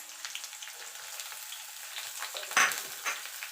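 Onion frying in a pan: a continuous crackling sizzle with light, irregular stirring scrapes and one sharper clatter midway, close and moderately loud.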